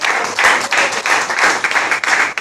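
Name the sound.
congregation applauding in church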